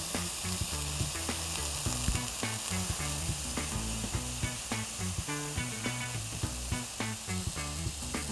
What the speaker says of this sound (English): So I'm adding my onions to caramelize them.